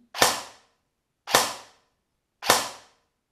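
An airsoft Honey Badger rifle fired in semi-automatic mode gives three single sharp cracks, evenly spaced about a second apart, each fading quickly into silence.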